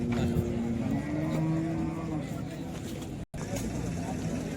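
A cow moos with long, drawn-out lowing at a busy Modnimb cattle market, heard over steady crowd noise while people talk nearby.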